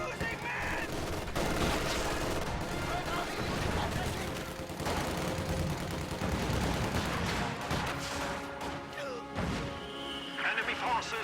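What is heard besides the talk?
gunfire in battle, from the video game Reign 2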